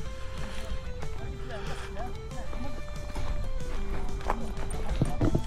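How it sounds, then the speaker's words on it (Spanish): A horse resting at a scenic mountain spot in rural Kyrgyzstan, heard as rhythmic hoof clip-clops and a brief whinny under steady talk and outdoor background noise. "Aquí hay un caballo."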